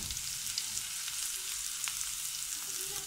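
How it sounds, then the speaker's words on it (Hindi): Cumin and garlic tempering for sarson ka saag sizzling and crackling steadily in hot oil, a close, continuous frying hiss with occasional pops and no voices. "जीरे और लहसुन का तड़का हमने लगाया है"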